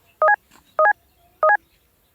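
Three short bursts of telephone keypad dialing tones, evenly spaced and clear against near silence, with no talk.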